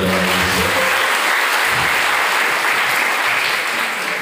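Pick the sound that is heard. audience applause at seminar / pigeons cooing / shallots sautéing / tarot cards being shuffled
audience applause at seminar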